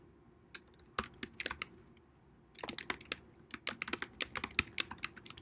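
Quiet, close typing on a computer keyboard while writing code, a few isolated keystrokes followed by a quicker irregular run of clicky taps.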